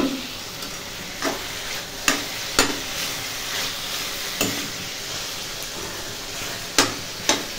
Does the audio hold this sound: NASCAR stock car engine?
no